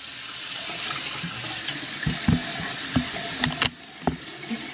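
Hot water running from a tap during a face-steaming skincare routine, a soft continuous splashing flow with a few sharper clinks and knocks partway through.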